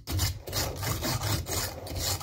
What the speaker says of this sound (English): I grab wire brush, and I'll go through and I'll get all the gunk off my thing